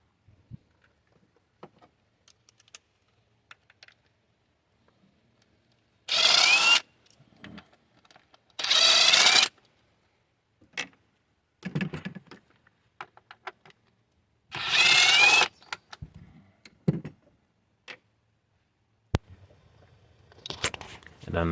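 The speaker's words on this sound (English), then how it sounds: "So we're going to be removing these two 10 mil bolts." A power tool or ratchet works 10 mm bolts off a Nissan intake manifold in a few loud, short whirring bursts, separated by quieter clinks and handling noises, with someone talking between them.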